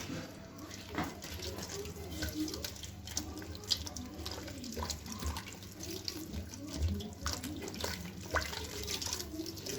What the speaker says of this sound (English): Now we have to wash it with water so that there is no portion of curd particles remain in that.